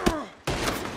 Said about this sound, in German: Mein Gott, schieß doch nicht hinter dir!